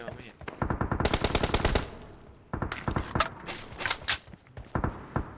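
Gunfire in the mobile battle royale game PUBG Mobile: rapid, loud automatic bursts rattle off in quick runs, with short pauses between volleys and sharp single shots near the end.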